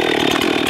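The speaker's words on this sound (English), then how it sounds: "This is the first time I have used a chainsaw" A chainsaw cutting wood roars loud and close in a short burst, a steady buzzing engine whine.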